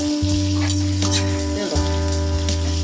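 Onion frying in oil with ginger and garlic, a loud, steady close sizzle with faint stirring, under a continuous low mechanical hum and no talking.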